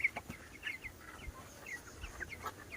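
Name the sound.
chickens clucking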